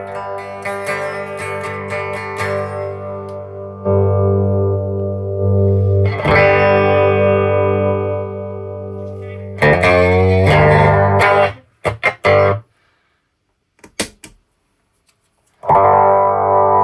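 Electric guitar run through a vintage 1970s Morley Power Wah Fuzz pedal, loud distorted chords and sustained notes swept by the wah in several bursts, separated by brief silences and short choppy stabs.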